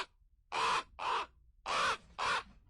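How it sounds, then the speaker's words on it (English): Crows call in the woods: four loud, harsh caws in two spaced pairs, close and clear against a quiet background. "you'll either have crows or ravens around you"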